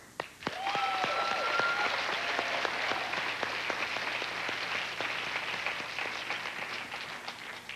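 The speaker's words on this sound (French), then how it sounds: "On applaudit" Comedy show audience breaking into steady applause, a dense wash of clapping with a couple of whoops at the start, sustained and gradually easing off.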